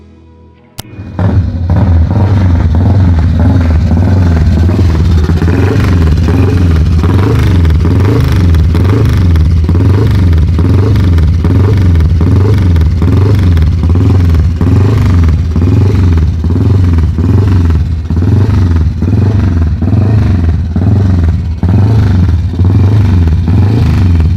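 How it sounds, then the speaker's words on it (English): An ESO 500 Czech racing motorcycle from the 1950s running loud and close, its engine a steady pulsing thump with a rapid, rhythmic firing beat after a quiet start, held at a constant idle-to-mid rev for the whole stretch. "The ESO 500 was a racing motorcycle produced by the Czech factory ESO"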